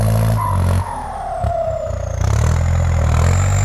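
A heavy tractor engine, a Kubota M8808, idles, then revs up loudly, its pitch sliding as the throttle opens and settling into a rough, throbbing roar close by.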